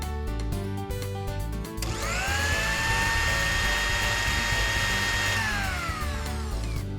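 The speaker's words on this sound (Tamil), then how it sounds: "நல்லா பொடியாக அரைக்கணும்." A mixer grinder grinding dried chillies into powder, starting with loose rattling, then rising into a loud, close, high-pitched steady whine that holds for several seconds before slowing down near the end.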